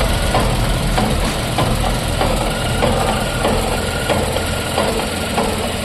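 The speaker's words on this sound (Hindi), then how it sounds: "क्लच दबाने पर एक टक टक करके साउंड आ रहा है" A Tata Tiago petrol car engine idles steadily with a faint repetitive ticking knock from the clutch plate while the clutch is pressed, a continuous close mechanical hum with light regular taps throughout.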